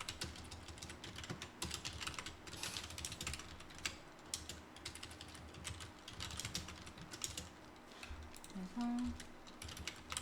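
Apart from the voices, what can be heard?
typing on a computer keyboard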